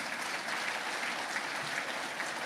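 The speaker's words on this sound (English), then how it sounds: "I ask you to give them a huge round of applause." Conference audience applause in a room of the Guyanese diaspora in Canada, a dense, steady wash of many hands clapping, even and sustained, with no voices standing out.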